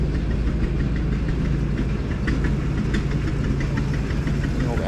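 An old tractor engine runs at a threshing show, a steady loud rhythmic chugging and knocking idle that carries on without a break, close by.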